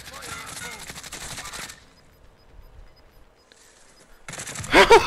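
Rapid video game gunfire bursts ring out loudly in a tactical shooter match, fading into a quiet stretch before a sharp, loud flurry returns at the end.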